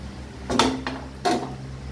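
On a gas stove, a metal lid is set onto a cooking pot in two short clanks about three quarters of a second apart. The clanks are close and clear, with a low steady hum from the burner underneath.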